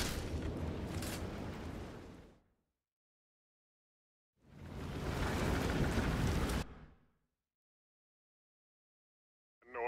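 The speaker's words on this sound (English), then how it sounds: "Storm's trying to compete with me." A storm in the Outriders video game brings two loud bursts of heavy rain and rumbling thunder, each lasting a couple of seconds, separated by silence.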